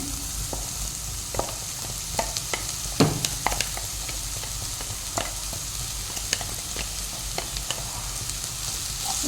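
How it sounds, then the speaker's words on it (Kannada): Ground masala paste fries in a pan for fish sukka (butai sukka), with a soft, even sizzle broken by frequent sharp spoon-scraping clicks, stirred close by without talk. "ಇವಾಗ ರುಬ್ಬಿಟ್ಟ ಮಸಾಲೆ ಹಾಕ್ತಿದ್ದೇನೆ"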